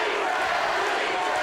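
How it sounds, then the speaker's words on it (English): A boxing crowd roars and begins chanting for its hometown fighter in the third round, a dense, steady wall of arena noise with no clear breaks, loud and continuous throughout. "You hear the crowd starting to chant Shelly to get their hometown hero going here in the third round."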